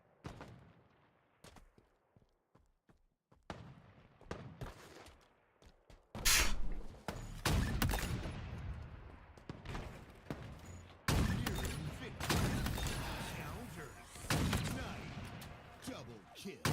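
Gunfire during a Halo HCS match: scattered sharp shots at first, then heavy, sustained bursts of shooting and explosive impacts, with voices talking over it.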